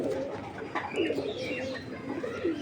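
Giribaz pigeons, an old-breed pair, cooing softly while one is held in the hand, with low rolling coos running steadily through the whole stretch and faint chirps and rustling around them.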